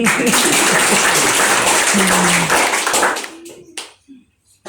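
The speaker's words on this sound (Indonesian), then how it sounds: "Tepuk tangan dulu." Church congregation claps hands together in a loud burst that fades out after about three seconds, leaving a few scattered claps and quiet room sound.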